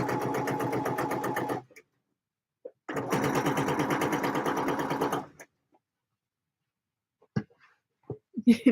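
A sewing machine runs longer lines of stitching in two steady bursts with a silent pause between, followed by a few faint clicks and handling knocks.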